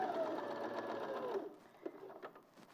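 A sewing machine stitches steadily along a marked dotted line on fabric, running close and continuous for about a second and a half before stopping, followed by a few faint clicks and handling sounds.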